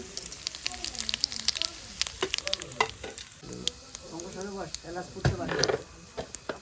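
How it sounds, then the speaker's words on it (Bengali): Bay leaves, dried red chillies and whole cumin seeds sizzle and spit in hot oil, a steady crackling fry with stirring scrapes and brief bursts of popping, with faint voices in the background. "ফোড়নে দিয়ে দেবো তেজপাতা কটা শুকনো লঙ্কা গোটা জিরে"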